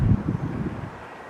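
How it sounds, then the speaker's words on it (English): Gusty wind buffets the microphone outdoors along the Erie Canal Trail, a low rumbling roar strongest at the start and easing off over a second or so. "It was a very windy day today."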